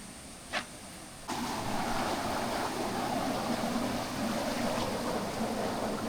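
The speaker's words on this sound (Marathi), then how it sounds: "पाणी बघा किती जोरात वाहतोय." A fast-flowing river, heard at a spot where people are catching crabs, sends up a loud, continuous broadband rush that starts abruptly after a quieter opening and then holds steady without pause.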